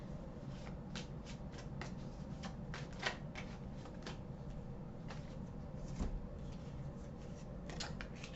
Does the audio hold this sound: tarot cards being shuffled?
yes